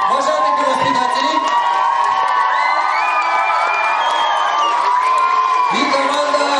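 Crowd at a summer camp sports comedy contest cheers and whoops, children's shouts and excited voices layered in a continuous, loud din as teams take the stage.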